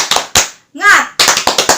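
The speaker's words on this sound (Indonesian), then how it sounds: "Kita bertepuk semangat ayah dulu ya." A group at a children's Sunday school claps in a quick rhythmic pattern of sharp hand claps, a 'tepuk semangat' cheer, with a short chanted voice in the middle.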